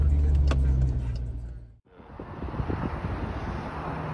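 A 2020 Jeep Grand Cherokee SRT drives by with a loud, steady engine rumble and heavy wind noise, dropping briefly to near silence mid-clip before the road roar and rushing air return.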